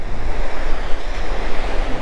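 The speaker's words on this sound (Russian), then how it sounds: "Ого, ветер какой сильный," Strong side wind and breaking surf on a wild, empty beach at Vityazevo, a loud continuous roar of waves with heavy wind buffeting the microphone throughout.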